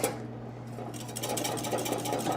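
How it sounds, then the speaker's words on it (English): Whisk beating a cream sauce made from scallop poaching liquid in a pan, a rapid steady rattling close by that grows denser after the first second. "Let me whisk for another second, because we're about to get thick."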